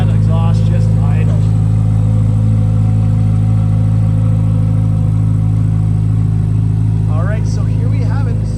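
A 2023 Chevrolet Corvette Z06 3LZ convertible idles with a deep, steady exhaust rumble, loud and continuous, with faint chirps of other sounds above it.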